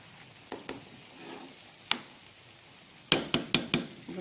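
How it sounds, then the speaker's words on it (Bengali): Chicken chaap fries in oil over a low flame, a soft crackle underneath as a spoon turns the pieces, giving scattered taps and then a quick cluster of sharp metallic clinks against the pan near the end. "চামচ দিয়ে দিয়ে আস্তে আস্তে চিকেনগুলোকে এইভাবে পাল্টি করে দিচ্ছি"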